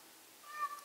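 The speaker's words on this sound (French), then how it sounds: "c'était quoi ce monumental miaou?" A pet cat lets out a single drawn-out meow indoors, fairly faint and brief, rising and fading within under a second.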